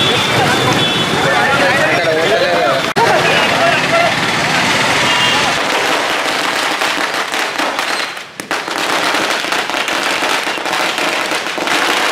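Firecrackers burst in rapid, crackling strings at a Congress party celebration of the Rythu Bharosa farmers' scheme, loud and continuous outdoors, with people talking and shouting among them.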